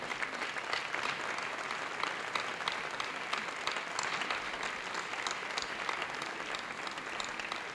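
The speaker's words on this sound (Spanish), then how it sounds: "Otro aplauso para ella" Sustained applause from a crowd at the San Antolín 2014 festival proclamation in Medina del Campo, honoring a guest; steady dense clapping throughout, fairly distant and even, with no voices above it.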